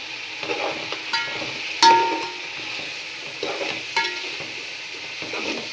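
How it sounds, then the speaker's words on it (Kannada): Chili powder and salt being stirred into biryani masala as it fries in a pan for chicken biryani. Close, steady scraping and stirring over a soft sizzle, with a few sharper utensil knocks against the pan. "ಖಾರ ಉಪ್ಪು ಎಲ್ಲ ಮಿಕ್ಸ್ ಮಾಡ್ತಾಯಿದ್ದೀನಿ ಇದಕ್ಕೆ"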